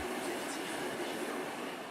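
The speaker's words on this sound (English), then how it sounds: "The train winds through the mountains." A train winding through mountains: a loud, continuous broadband rumble of wheels and carriages rolling on the rails, steady throughout with no pauses or voices.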